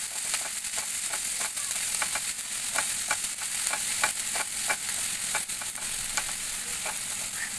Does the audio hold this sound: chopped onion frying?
yes